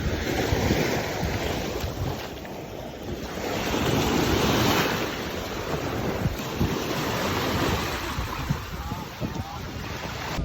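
Sea waves wash steadily onto the beach at Ostia near Rome, a continuous broad roar of surf mixed with gusty wind buffeting the microphone, no voices.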